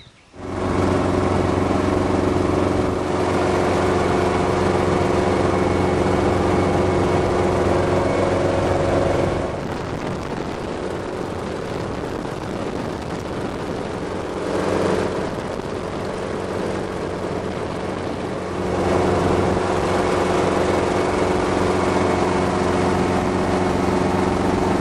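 A Hughes 269 piston helicopter sits on a small island helipad before takeoff, its engine running loud and steady with a droning buzz, easing off briefly in the middle before rising again.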